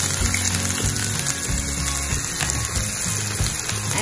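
Finely chopped onion dropped into hot oil with golden-browned garlic for a red pasta sauce, sizzling steadily and loud throughout with a busy frying crackle and no voices.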